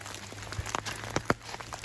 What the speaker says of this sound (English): now I've got a combination of snow and rain